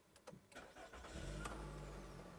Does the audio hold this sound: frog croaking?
no